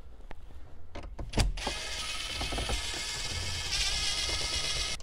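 Phillips screws being removed from the dash bezel of a Honda CR-V during a radio install: a few close clicks, then a steady, loud mechanical whirring that runs on continuously, with no talking.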